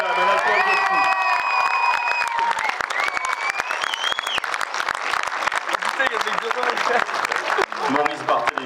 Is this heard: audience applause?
yes